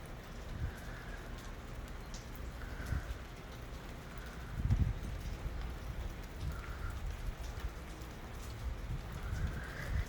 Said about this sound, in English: It's raining in the summer.